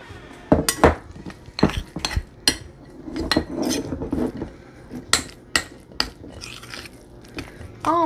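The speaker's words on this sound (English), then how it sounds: "Let's give that a quick stir." A utensil stirs food in a pot while a keto pizza is cooked, making scattered metallic clinks and scrapes that come in bursts of varying loudness with short pauses between them.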